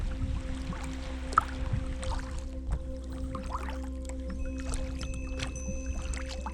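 Sea kayak paddling through roughly two-foot swell in the Sound of Jura off Loch Sween, Argyll: soft water sloshes and a few paddle splashes over a steady low hum, with no voices.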